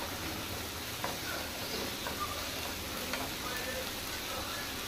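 Chopped tomatoes sizzle and fry in a hot pan with dill greens, giving a steady close crackling hiss throughout with a few faint clinks and no talking.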